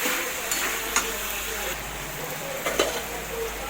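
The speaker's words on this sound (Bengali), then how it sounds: "টমেটোটা দিয়ে ভালো করে নেড়ে নেব" Chicken being stirred with chopped tomatoes in a pan, a steady soft sizzle with a few scraping clicks of the spoon, fairly quiet and continuous.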